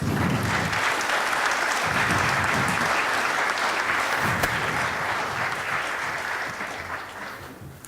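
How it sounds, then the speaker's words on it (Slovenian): A hall audience at a ceremonial session of a veterans' association gives sustained, dense applause that holds steady and then gradually fades toward the end. "En aplavz."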